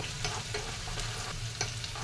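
Tempering of dried red chilies, urad dal, cumin seeds and mustard seeds spluttering in hot oil, an even close sizzle punctuated by a few sharp pops, with no speech.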